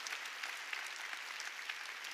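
Applause from a church audience at a sermon, dense and steady clapping filling the whole stretch at moderate distance, with no voices over it.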